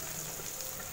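Chopped onions frying in hot oil seasoned with mustard and cumin for a brinjal masala fry, giving a steady, close hiss of sizzling that holds at an even level throughout with no talking.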